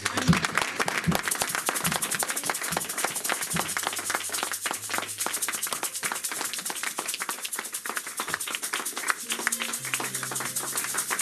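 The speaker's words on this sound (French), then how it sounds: "Acclamons le Seigneur." A church congregation at a thanksgiving service claps and cheers in praise of the Lord, sustained dense applause with scattered sharp claps and a few low sustained tones underneath, loud and continuous throughout.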